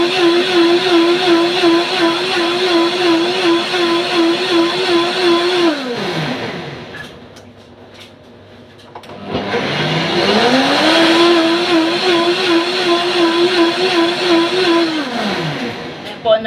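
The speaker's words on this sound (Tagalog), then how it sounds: "Ngayon po, i-blender po natin siya." An electric blender whirs loudly while blending lime with water, running steadily, winding down to a pause around the middle, then spinning back up to full speed before slowing at the end.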